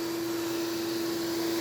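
Vacuum hold-down table pump running steadily, a continuous even whoosh with a sharp constant tone, close and alone.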